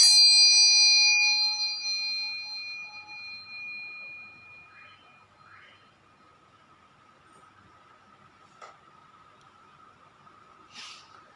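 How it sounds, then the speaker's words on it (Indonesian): A single bright bell rings once and its tone slowly fades, leaving quiet with a faint steady hum and a few small clicks. "saya akan memulai dengan bunyi tanda lonceng berbunyi"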